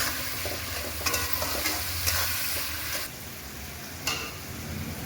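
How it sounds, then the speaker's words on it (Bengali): Spices are sautéed with chopped tomato in a pan for a Bengali banana stem and prawn dish, a steady close sizzle with spatula scrapes and stirring, no voices. "এবার এই মশলাগুলোকে ভালোভাবে কষিয়ে নেব"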